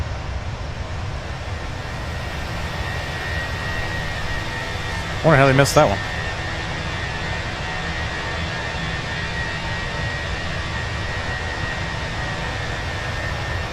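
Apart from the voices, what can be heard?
Fenix A320 CFM jet engines in flight simulator video game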